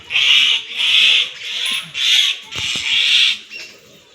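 Mynas give harsh, chattering calls at a cat in five or six loud bursts, each about half a second long, with a couple of sharp knocks in between.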